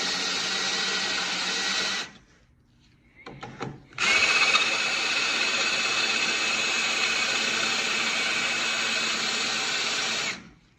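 A power drill whines steadily while boring into metal on a Foxbody steering column, stopping briefly for a second before a louder, sustained run resumes for several seconds.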